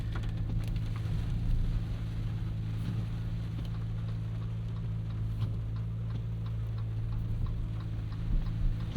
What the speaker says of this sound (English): it's absolutely downpouring right now